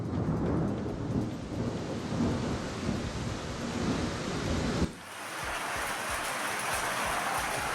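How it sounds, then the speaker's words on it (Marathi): Unseasonal hailstorm with strong winds and heavy rain in Amravati district, heard as a dense, continuous roar of pounding precipitation and gusts that dips briefly near the middle before surging back. "अमरावती जिल्ह्यामध्ये वादळी वाऱ्यासह जोरदार गारांचा पाऊस पडलाय."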